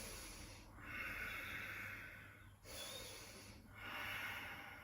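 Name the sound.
exhaling breath during yoga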